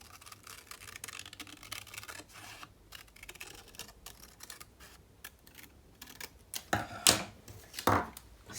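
Paper is cut by hand, with soft snips and rustling leading into two louder, crisp cuts near the end, all close and with no talking.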